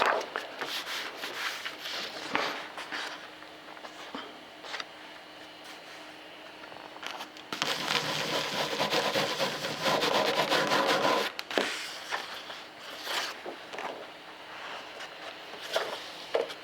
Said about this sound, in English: So I'm going to put the embossing on these next two